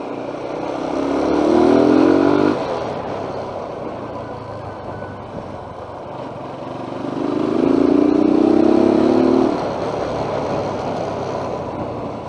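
A TVS Apache RTR 180 BS4 motorcycle revs twice with an intake roar from the air filter, each rise climbing in pitch for a couple of seconds, then dropping back to a steady idle.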